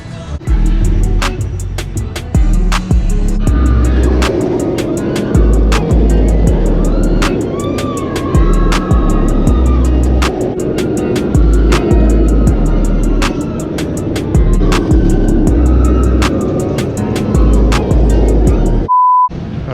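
Loud ride noise from the West Coast Racers dueling roller coaster at Six Flags Magic Mountain, a steady roar of wheels and rumbling track with repeated sharp clacks, continuous throughout before cutting off near the end.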